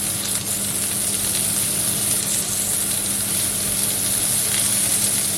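Shrimp searing in a hot pan, a steady loud hiss of sizzling oil that runs without a break, close up, with no voices.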